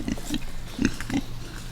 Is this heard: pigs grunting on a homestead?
yes